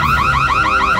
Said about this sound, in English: Did the alarm go off after you came out?